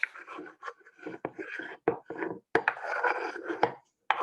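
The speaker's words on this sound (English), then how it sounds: "And then I'm going to just scrape all that banana off" A utensil scraping cut banana pieces off a food preparation board, giving short, irregular, close-up scrapes and taps with small pauses between strokes.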